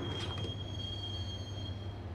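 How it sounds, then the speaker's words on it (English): Subway train in the video game Max Payne, a steady loud rumble of rolling carriages with a thin, continuous high wheel squeal running throughout, no pauses. "A train, a subway train materialized on my body and killed me."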